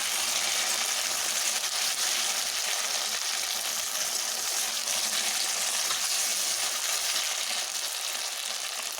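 Taro (kochu mukhi) frying in hot oil, a dense, continuous sizzle and crackle that stays loud and even throughout, heard close up with no voices over it.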